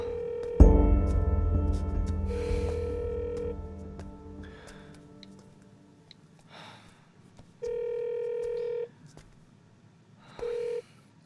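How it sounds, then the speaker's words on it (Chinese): A telephone rings in repeated electronic bursts, a sharp first ring followed by fading tones and two later shorter rings, with brief speech between them. "小叔接电话。"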